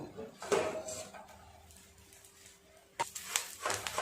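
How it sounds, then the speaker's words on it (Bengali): A lid comes off a cooking pan of paneer wrapped in charred banana leaves, making a soft clatter up close, with a second clink of metal a few seconds later. "এবার ঢাকাটা খুলে নেব।"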